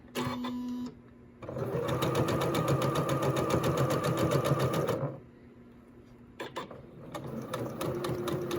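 A sewing machine fitted with a gathering foot stitches tulle fabric in a steady, close whirring run of rapid needle strokes for several seconds, with brief shorter bursts before and after.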